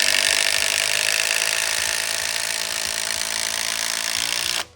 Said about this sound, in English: Just connecting the top plates to the bottom of the trusses with these screws.